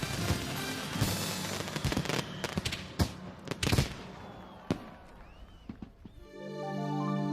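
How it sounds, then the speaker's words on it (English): Fireworks launched at sea from a Disney Cruise Line ship: a rapid volley of sharp bursts and cracks with scattered distant booms, thinning out before music rises at the end. "The fireworks at sea on board Disney Cruise Line, no one else does it."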